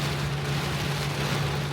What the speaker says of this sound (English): So this is when they say it's raining in sheets.